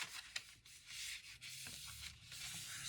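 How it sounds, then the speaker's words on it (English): Folded score lines on craft paper from a 12x12 pad are burnished with steady rubbing strokes, a soft, close scraping hiss in repeated passes with a few brief taps, alone without talk. "So fold your score marks and get a nice burnish on them."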